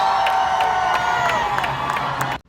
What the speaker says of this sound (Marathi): त्यानंतर मॅच सुरू झाली आणि हा जल्लोष बघा